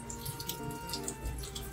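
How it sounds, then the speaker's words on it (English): Tap water runs steadily over fresh berries rinsed in their holed plastic container at a kitchen sink, a close, continuous splashing and draining with no talk. "luckily we can rinse them right in the container, because there's holes in the bottom that the water will just drain right through."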